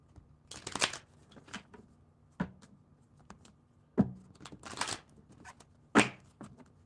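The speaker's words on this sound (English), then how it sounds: "And I want to do a shuffle." A deck of tarot cards is shuffled in several quick, crisp riffling bursts separated by short pauses, close up and otherwise quiet.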